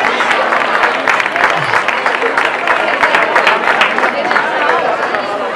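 Applause from a crowd at an outdoor youth cross-country race in Larraga, Navarra, steady broadband clapping sustained throughout with background crowd noise, no clear single voice over it.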